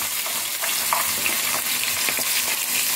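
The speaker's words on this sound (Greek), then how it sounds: "έχουμε βάλει λίγο λάδι στο τηγάνι μας και θα ρίξουμε" Filling for fasting Greek sarmadakia with vine leaves goes into a hot frying pan with a little oil and sizzles loudly and steadily, close by, with faint stirring scrapes and no voices.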